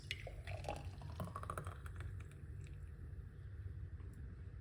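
Liquid pours and splashes steadily out of a pot, a soft continuous trickling with a few drips, fairly quiet and with no talking.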